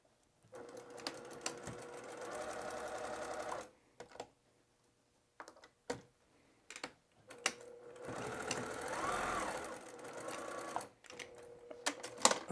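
A sewing machine stitches a seam on a fabric appliqué candy bag, running in several bursts of rapid whirring with short pauses between, close and moderately loud, with no talk.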